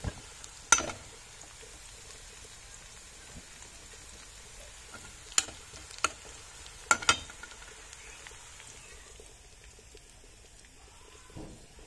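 Onions frying in oil until golden brown for nihari, a soft steady sizzle running throughout with a few sharp clinks of a utensil against the pan, close by and fairly quiet.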